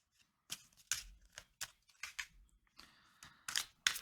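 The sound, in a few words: shuffling a deck of cards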